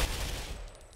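MG36 Rainbow machine gun firing in Ghost Recon Phantoms, a loud, dense burst of rapid shots that blur into a continuous roar, fading slightly toward the end.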